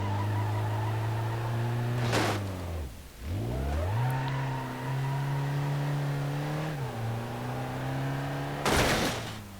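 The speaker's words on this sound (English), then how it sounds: "Yep, there goes the drive shaft." An ETK 854td diesel car in BeamNG.drive revs and stalls as its drive shaft breaks, engine tone dropping sharply then recovering, with two brief loud bursts of noise, no talking.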